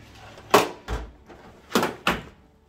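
A drawer in a tool box slides open and shut in a few quick scraping, thudding strokes, close and fairly loud with short quiet gaps between them, and no voices.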